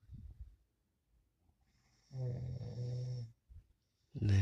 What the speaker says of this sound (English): And this is the snoring song.